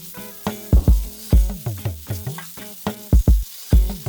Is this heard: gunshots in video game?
no